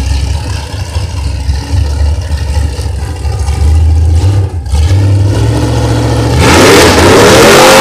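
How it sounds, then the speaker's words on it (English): A drag car does a burnout at a track day at Union Grove to heat its tires, its engine growling loud and close, then revving harder and rising in pitch toward the end, with no voices over it. "he's heating them tires up."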